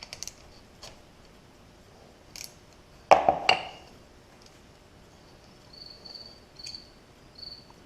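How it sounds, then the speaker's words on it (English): A cricket chirps faintly in short intermittent bursts in the second half, with a couple of sharp clattering knocks just before, during work on a 1994 Suzuki DR 650 motorcycle. "Hello, Mr. Cricket."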